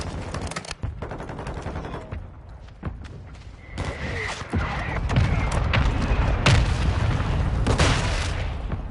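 Mortar strike explosions in the video game Modern Warfare 2 arrive as a run of heavy booms and thuds over sustained rumbling battle noise, loud and close, with brief game voice chatter.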